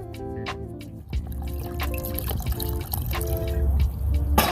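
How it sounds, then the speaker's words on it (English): Filtered homemade wine pours into a pot in a continuous splashing trickle that thickens into a fuller, bubbling fill over a few seconds, close and fairly loud. "we're going to take our filtered wine that we made, and we're going to pour that"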